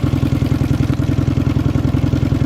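A Dnepr motorcycle engine running loud and close, with a rapid, even pulsing beat and mechanical clatter as the throttle is opened, with no voices over it.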